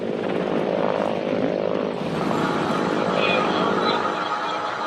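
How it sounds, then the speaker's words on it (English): An Mi-35 attack helicopter flies past with a steady droning, buzzing engine and rotor tone that holds its level throughout. Someone speaks over it. "Soon, the attack helicopter, or Mi-35, eases into the skies."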